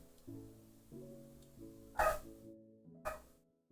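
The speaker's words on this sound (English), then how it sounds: "Okay, it's just a dog, I guess." A dog barks twice in short, sharp bursts that stand out against quiet background tones, the second bark slightly weaker than the first.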